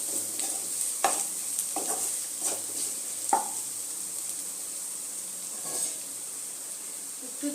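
Ground turmeric, cumin, coriander and chilli powders being stirred into chicken in a hot pan for chicken lababdar: a steady sizzle with several sharp scrapes and clinks of the spoon against the pan, close and alone with no talk.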